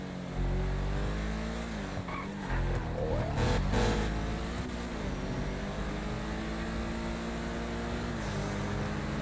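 Loud, steady engine roar of a BMW-based car revving at high rpm, with a rich V12-like tone sustained throughout; a man briefly exclaims once early on.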